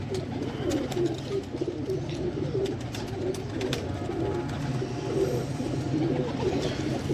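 Pedigree pigeons coo in low, repeated soft calls, steady and nearby, with scattered clicks and rustling.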